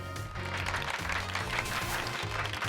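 Applause for Pikachu in the video game Pokémon Violet, a steady burst of clapping lasting a few seconds over a background of game music.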